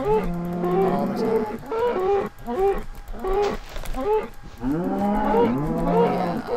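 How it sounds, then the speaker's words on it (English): Several cows moo loudly and close in Minecraft's Tekkit modpack, long drawn-out lowing calls repeating one after another with brief pauses between them. "these cows are so loud"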